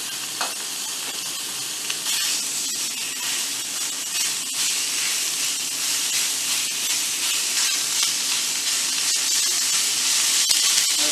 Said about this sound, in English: now we're going to get started with browning our ground beef